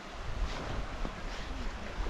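Steady wind blows across an open lakeside campsite beside Sirindhorn Dam, a continuous broadband rush with gentle gusts and buffeting against the microphone, close and moderately loud throughout, with no voices.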